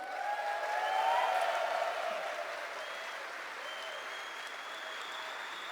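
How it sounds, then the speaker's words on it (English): A large keynote audience at a Star Citizen convention applauds and cheers for the developers, a steady wash of clapping with a few whoops that swells early and then holds at a fairly distant, even level. "Big cheer for all of the devs who did the panels today."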